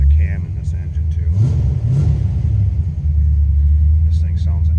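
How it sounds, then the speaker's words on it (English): A 1989 Chevrolet Corvette V8 idles with a lumpy, loping cam, giving a deep, steady rumble up close, briefly swelling as it is blipped, while someone talks over it. "You can hear the cam in this engine too."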